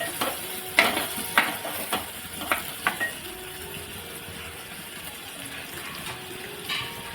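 Turmeric being stirred into spinach and gram flour in a pan for a Maharashtrian palak besan dish, a soft sizzle under a few sharp spoon scrapes clustered early, then a steady quieter frying hiss.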